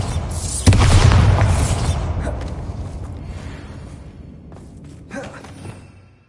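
Bombarda spell blast in Hogwarts Legacy: one loud, close explosion with a sharp onset, then a long rumbling decay, and a smaller thud near the end.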